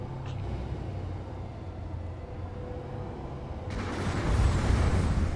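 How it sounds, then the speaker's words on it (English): A 12-seat transport aircraft hovers in the video game Planetside 2. A steady, broad engine drone stays loud and close, and a brighter, rougher wash of rotor and jet noise swells in partway through. "So that's just like a C-130 hovering."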